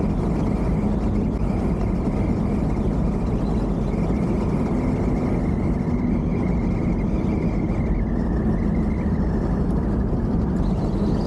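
A 1963 Cadillac Fleetwood with a newly installed brake master cylinder and booster rolls along, its steady low engine and road rumble continuous and fairly loud before it slows to a stop, with no talking.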